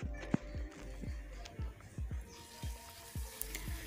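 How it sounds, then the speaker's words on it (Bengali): Chicken pieces fry in hot mustard oil in a pan, giving a steady close sizzle broken by a regular series of soft knocks and scrapes from stirring. "মুরগির মাংসটা আমি ভালো করে এই তেলের ভিতরে ভেজে নেব"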